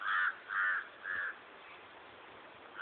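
Crows cawing outdoors, three loud, evenly spaced caws close by, followed by quieter background noise.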